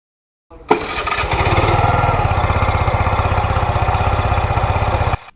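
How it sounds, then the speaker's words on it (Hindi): A TVS Jupiter ZX 100cc petrol scooter starts and runs close by, its small single-cylinder engine and exhaust giving a steady, rapid putter that holds at idle for several seconds before cutting off. "तो ये था 100 cc स्कूटर का एग्जॉस्ट साउंड या इंजन साउंड।"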